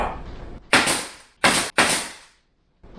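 A nail gun fires into wooden trim, three sharp, loud close pops in quick succession with a fourth starting at the end, separated by short silences.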